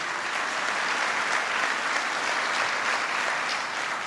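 A large audience at a presidential farm bill signing at Michigan State University claps steadily, a dense, sustained wash of applause that holds at an even level throughout, with no voices above it.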